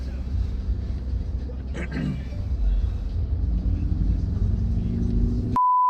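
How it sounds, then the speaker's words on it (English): Lamborghini Centenario Roadster engine and exhaust producing a continuous deep rumble, heard close from inside the car, with a brief rise in engine note and a beep at the end; people talk at times. "So with the acrophonic exhaust, it does enhance the sound."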